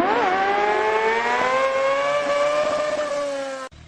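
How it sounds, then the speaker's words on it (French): A powerful large-displacement motorcycle engine roars loudly and continuously, holding a strong sustained tone with slight pitch changes before cutting off near the end. "Ce vrombissement puissant de la moto,"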